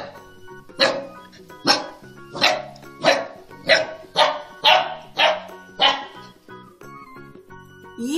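A dog barks in a steady run of about eight sharp, evenly spaced woofs, loud and close, with a faint musical bed behind them in a children's alphabet phonics song.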